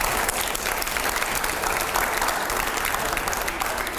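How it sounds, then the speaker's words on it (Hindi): Audience at a televised panel discussion breaking into loud, sustained applause, dense and even clapping filling the whole stretch with no pause. "जोरदार तालियां अगले सवाल से पहले"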